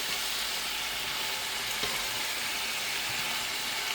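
Food frying in a pan while being stirred, a steady close sizzle with soft scraping movements throughout and one brief knock midway.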